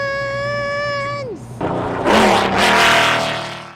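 Race car engines at Daytona International Speedway start with a steady, high, tonal whine that drops away, then swell into a loud, rough roar as the cars power up and rush past, close and overwhelming.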